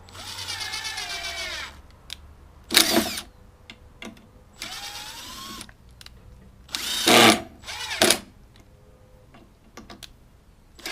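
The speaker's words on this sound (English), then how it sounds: "Run the screws in a couple of times to make the threads really easy to work." A power drill runs screws in for a railing bracket in several short whirring bursts with pauses between them, loud and close, joined by sharp metallic clicks and taps of handling the screws and bracket.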